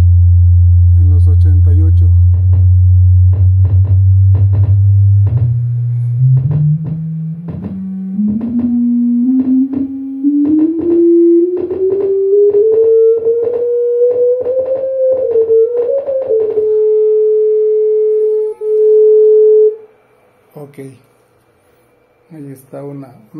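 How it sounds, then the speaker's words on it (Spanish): Test tones played through a Sinbosen K4-450 amplifier, a steady loud sine tone that climbs gradually in pitch from deep bass over about fifteen seconds, holds, then stops, with someone speaking Spanish throughout. "más bien para que escuchen las frecuencias, cómo se van escuchando"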